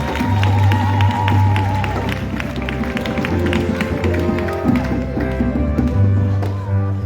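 A church congregation at a revival gathering in Grand Bassam cheers and claps, a lively crowd roar over rhythmic beats and sustained musical tones that runs through the whole clip.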